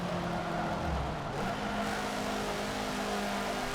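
A race car in Forza Motorsport 7, running a showroom rally event, drones with a steady engine hum and shifting tonal whine, mid-distance and moderately loud, with a brief low rev burst early and no talk.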